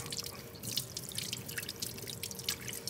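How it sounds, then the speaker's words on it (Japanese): Sardines are rinsed under running tap water in a kitchen sink, with a soft continuous trickle and scattered drips and splashes, fairly quiet and with no one talking. "お水でよく洗います。"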